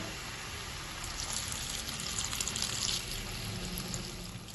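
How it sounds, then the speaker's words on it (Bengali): Hot water, about a cup, pours into a pot of pumpkin curry with softened pumpkin and potato, making a steady splashing pour with no talk. "এবার আমি এর মধ্যে দিয়ে দেবো এক কাপ মতো গরম জল"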